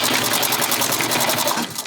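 A sewing machine back-tacks a strap in a close, loud, continuous rapid stitching run that slows slightly at the end.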